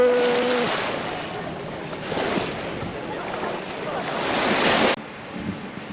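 Ocean waves washing onto a beach on the central west coast of Phuket, a steady broad surf wash with wind buffeting the microphone, swelling in several surges before dropping off sharply near the end.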